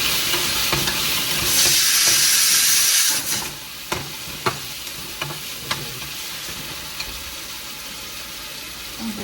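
Cumin seeds, then chopped onion and garlic, sizzling in a hot pan with oil, a loud steady frying hiss that surges as the onion goes in, followed by softer sizzling with scattered stirring clicks.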